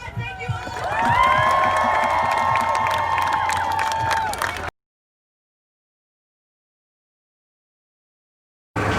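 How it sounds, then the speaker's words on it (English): A crowd cheers and claps loudly over a Zoom event for a few seconds, then the sound cuts to silence before resuming briefly. "Give a round of applause."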